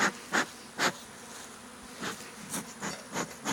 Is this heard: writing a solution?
no